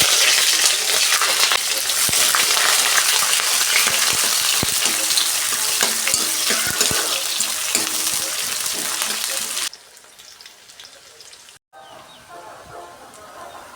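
Onions frying in hot oil with bay leaf, cumin, cinnamon and cloves, a steady, dense sizzle that runs loud and close, then drops sharply to a quieter crackle near the end, with no voices.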